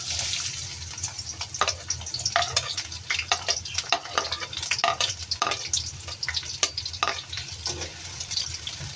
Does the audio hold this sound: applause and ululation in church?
no